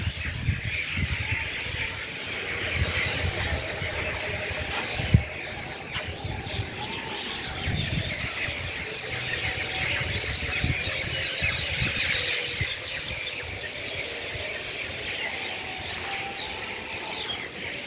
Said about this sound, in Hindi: हज़ारों की तादाद पर मैना आती है।